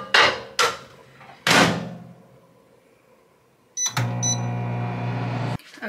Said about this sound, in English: It says to microwave them in the paper tray for 60 seconds